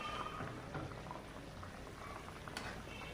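A koi fish curry simmers in a pot, its thin gravy bubbling in a steady, busy boil that stays close and even throughout, with no voices over it.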